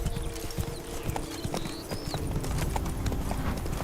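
Roach the horse gallops in The Witcher 3 video game, hooves pounding in a fast, steady clip-clop close by over an outdoor ambient bed, with faint bird-like whistles above it.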